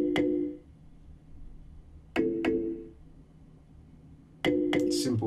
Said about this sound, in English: It's chunky kalimba.